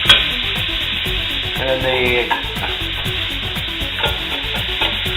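Mushrooms sautéing in butter and olive oil in a pan, with a continuous low sizzle and repeated rubbing, scraping stirs. A voice speaks briefly.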